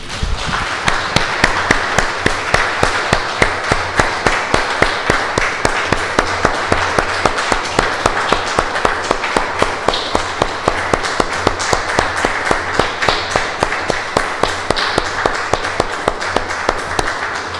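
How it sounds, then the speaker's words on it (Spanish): A church congregation claps in a strong, regular rhythm, the sharp beats repeating steadily in unison for a long stretch with almost no talk. "Damos un aplauso"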